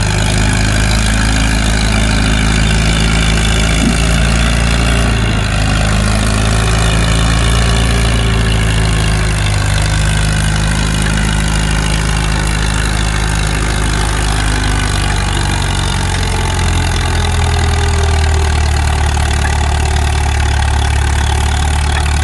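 A heavy tractor engine roars steadily and loudly for the whole stretch during a tractor pull competition, a deep sustained drone with slight shifts in pitch, no voices over it.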